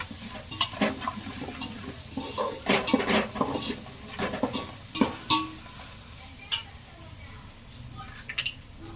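Ginger garlic paste fries in a pan for village-style dum biryani, its soft sizzle running beneath repeated scraping and clinks of a metal spoon stirring against the pan.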